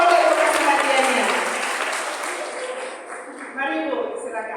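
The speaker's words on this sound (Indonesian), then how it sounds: "Ya boleh tepuk tangan" Audience applause at a gathering, a broad wash of clapping that slowly fades, with a voice speaking over it near the end.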